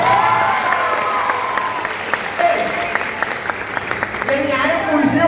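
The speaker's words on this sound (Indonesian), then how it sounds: "Cuma tepuk tangan, Beno." An audience at a school festival show (SMK Fest) claps steadily and densely throughout. Voices and a few cheers come through the applause.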